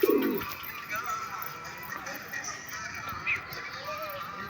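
Pigeons in a loft coo, with one loud, close coo right at the start followed by softer calls and faint rustling against quiet background noise.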